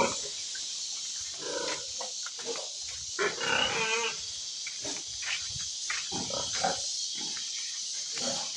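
A boar pig in its pen on a farm gives a run of rough, throaty grunts and snorts, close and fairly loud, over steady background hiss.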